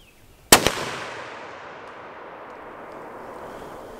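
A single sharp gunshot rings out against an engine block outdoors, a loud crack followed immediately by a second smaller impact, then a long fading echo rolling away into quiet.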